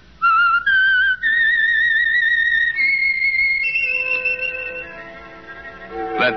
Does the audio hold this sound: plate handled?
no